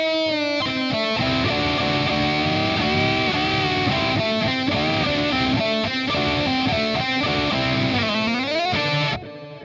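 Distorted electric guitar plays a phrase from a song, loud and continuous with bends and slides, sustained notes shifting in pitch before cutting off at the end.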